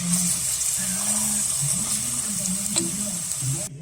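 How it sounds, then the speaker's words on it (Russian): Grated carrot frying in olive oil in a pot, a steady soft sizzle with faint clinks and stirring, close and continuous until it cuts off near the end. "Пока наша морковка жарится,"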